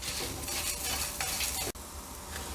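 Curry leaves sizzling with roasting coriander in a pan for Kerala sambar, a steady loud crackle with stirring that cuts off sharply near the end.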